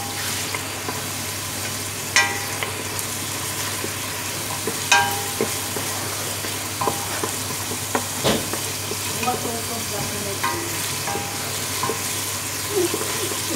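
Onions sautéing in a pan give a dense, steady sizzle, close and fairly loud throughout, broken by a few clicks and scrapes of a spatula stirring, with no voices.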